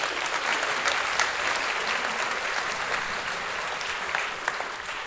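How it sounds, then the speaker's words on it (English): An audience at a sports champions tribute night in Tacoma applauds the honorees, with steady, dense clapping throughout and a faint murmur beneath. "big hand of applause to everybody here tonight"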